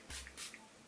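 Two quick hissing bursts of Anastasia Beverly Hills Dewy Set setting spray misted from a pump sprayer, close and fairly soft, with a short quiet tail after.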